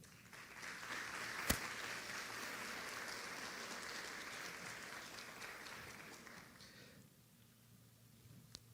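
An audience at an education panel gives a warm round of applause to welcome a speaker, steady crowd clapping with one sharp knock early on, tapering off near the end.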